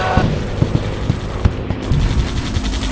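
Rapid bursts of gunfire while shooting at enemies, sharp cracks repeating in an uneven rhythm over a dense, noisy background, loud and close, with no talking.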